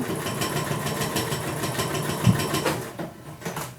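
A sewing machine stitches down the center of a paper notebook signature, running continuously at a fast, steady rhythm, close by, with no talking.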